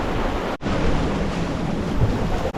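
Strong wind roars steadily over a sailboat sailing close-hauled in about 20 knots on flat water in the southern cayes of Belize, loud and continuous with brief dropouts.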